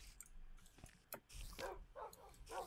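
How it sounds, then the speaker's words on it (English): Several video-game dogs in Hatventures bark and yip in short, irregular bursts, some sharper and some muffled, layered over faint game ambience. "Whoa, I found loads of dogs."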